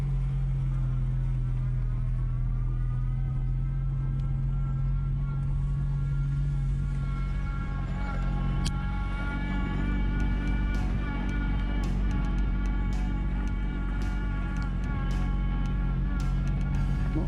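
A Volkswagen Golf MK2 Syncro, back running after about 15 years off the road, idles with a steady low engine drone and a faint rattling exhaust that clatters intermittently in the second half, close by.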